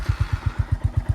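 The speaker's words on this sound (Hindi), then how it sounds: "उसके बाद आपको करना क्या है, स्टार्ट करना है।" A motorcycle engine just started cold on a winter morning idles with a steady, rapid thumping pulse, close and fairly loud, with a slight mechanical clatter.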